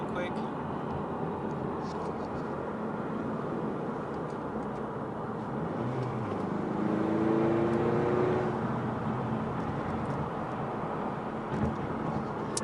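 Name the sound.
turbo Mustang accelerating in 5th gear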